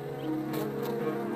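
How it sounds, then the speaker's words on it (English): Close, steady buzzing of bees from a hive in a hole in an ancient tree trunk in the Chobe valley, a continuous droning hum with no pauses. "Holes in the ancient trunks sometimes harbor beehives."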